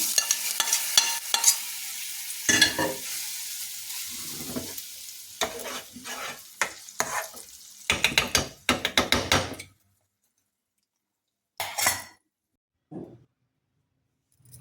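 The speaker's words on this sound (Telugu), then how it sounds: "పోపు వేగింది. ఈ అల్లపచ్చడిలో వేసుకుంటున్నాను." A fried tempering goes into ginger chutney and is stirred, sharp bursts of sizzling and scraping spoon knocks in irregular clusters, with quiet gaps between, close and loud.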